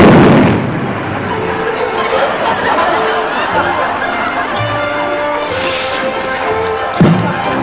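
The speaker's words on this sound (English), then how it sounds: "Now, when I light that, it'll explode." An explosion set off by lighting a match in an Abbott and Costello comedy scene: a loud blast at the start decaying into rumbling debris and commotion, with another sharp bang near the end.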